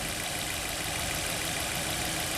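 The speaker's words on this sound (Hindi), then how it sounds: "इंजन की आवाज़ भी आ रही है" A car engine idles steadily with the air conditioning running, a continuous even hum and rumble held close and moderately loud throughout.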